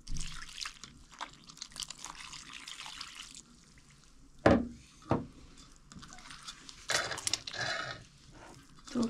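Warm water is poured onto yeast in a kitchen, giving a few short splashing pours and trickles with quiet gaps and light clinks between, close and fairly soft, with no talking.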